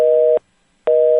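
Two tones of a telephone busy signal, loud and steady, separated by a half-second gap of silence, heard alone with no voices.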